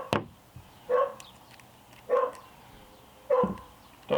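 Dogs barking in the distance outdoors during a Toro Super Recycler SR4 lawn mower repair, four separate sharp barks spaced about a second apart, faint against quiet background.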